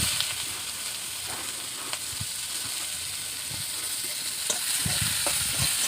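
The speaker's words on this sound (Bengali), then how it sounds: "এখন ভালো করে পেঁয়াজগুলিকে ভেজে নেব।" Chopped onion, dried red chilli and bay leaf fry in hot oil in a pan, a continuous moderate sizzle broken by scattered scraping and stirring knocks from a spatula.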